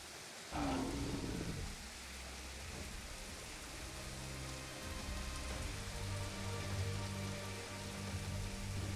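Steady rain pours down in the dinosaur park game Jurassic World Evolution, a dense continuous hiss filling the scene with a low rumbling roar underneath, a sharp onset at the start.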